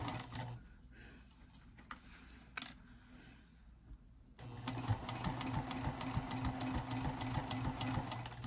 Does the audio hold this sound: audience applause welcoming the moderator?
no